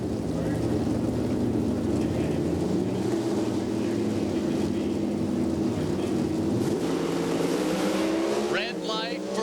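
A drag racing car thunders at an NHRA national event, a loud sustained engine roar with shifting pitch under a commentator's continuous talk, ending in a brief sharp rising burst.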